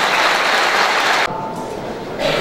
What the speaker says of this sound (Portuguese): Uma salva de palmas a todos vocês